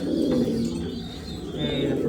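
Soft, low cooing of a pair of racing pigeons, male and female, repeats close by in overlapping murmurs, with faint chirps in the background.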